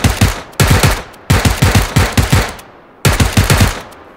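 Rapid automatic gunfire from the video game PUBG rattles out in several loud, close bursts separated by short pauses.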